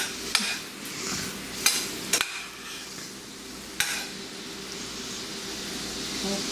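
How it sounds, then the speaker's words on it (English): A wooden spoon scrapes browned bits from the bottom of a skillet while chicken Alfredo is being made, giving a soft sizzle under a few sharp scraping knocks, close by and without speech. "Scrape the bottom of the skillet with a wooden spoon to release any brown bits."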